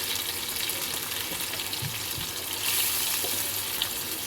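Boiled chana dal tips into a pot of hot frying oil and meat while cooking dal gosht, giving a loud, continuous sizzle with faint stirring scrapes and no talk.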